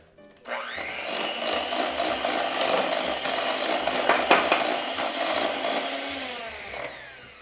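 An electric mixer whirs steadily, close and loud, through raspberry chocolate roulade filling with a splash of Chambord, holding a constant drone with slight rattling for several seconds.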